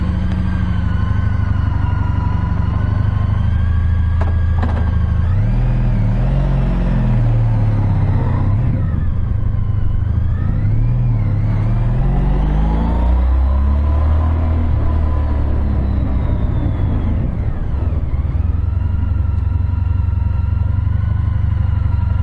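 A 2014 Honda CTX 1300 motorcycle engine rumbles continuously while riding. The deep, loud engine note rises and falls with repeated revving and acceleration over steady road and wind noise, close to the rider, with no speech.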